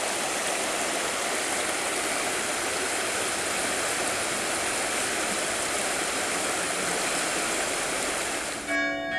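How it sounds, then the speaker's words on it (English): River flowing steadily, recorded by the built-in microphone of a Marvue 318 FHD camcorder, a constant broad rushing wash at fairly high level that continues without a break and cuts off at the end. "Another test of the microphone, this time filming the river."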